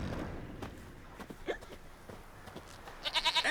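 A goat in The Witcher 3 video game bleats in a short series of close, wavering calls near the end, after quiet ambience with faint footsteps.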